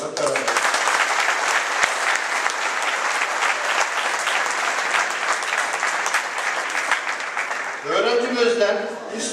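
A school audience applauds a student in a sustained round of dense clapping that carries on for most of the stretch, then gives way to a voice speaking near the end.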